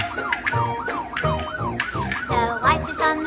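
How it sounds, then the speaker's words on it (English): A toy police car siren wails in fast rising and falling sweeps, loud and close, over a few seconds with no talking. "Police car."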